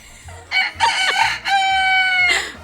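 A backyard hen gives a few short clucks and a rising squawk, close and fairly loud, with brief pauses between calls.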